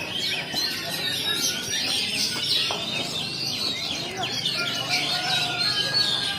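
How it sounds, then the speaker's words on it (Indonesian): Many songbirds chirp and trill together at a bird singing contest in Banjarnegara, a dense, continuous chorus of overlapping calls with a crowd murmuring in the background. "Burung yang terlalu lama menggantang tolong ditandai."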